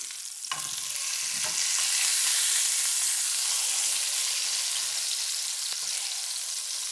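Burger patties hissing and sizzling steadily in a hot pan at medium heat after being flipped, a loud, continuous, close frying sound with a few brief clinks of a utensil.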